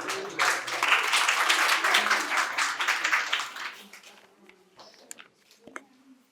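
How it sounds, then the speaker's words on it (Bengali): Applause from an audience at a medical college quiz contest in Santiniketan, greeting a prize winner: dense, steady clapping for about four seconds that fades out, with faint voices and room sounds after. "জোরে হাততালি হয়ে যাক একবার ওর জন্যে"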